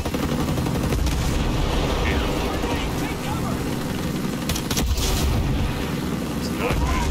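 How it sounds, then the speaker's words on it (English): Mortar barrage in the video game Ghost Recon Breakpoint, with loud, dense booms and blasts rumbling continuously and a heavier impact midway. "A lot of mortars."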